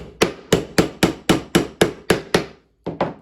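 Finishing nails hammered into the door of a wooden birdhouse: about ten sharp, evenly spaced blows, close and loud, with one brief pause before the last two quick strikes.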